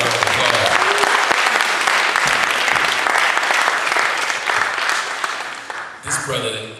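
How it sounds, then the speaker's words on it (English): A lecture-hall audience breaks into sustained, dense applause at a talk on Malcolm X and radical politics, loud and steady for several seconds before tapering as a voice resumes speaking. "So please give her a round of applause."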